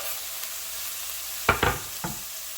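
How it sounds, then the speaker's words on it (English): Roughly chopped garlic goes into a pan of half-cooked asparagus, and a steady sizzle runs throughout. Two quick louder bursts of stirring scrape and spatter come near the middle, then a smaller one. "I'm adding the garlic which I have chopped roughly."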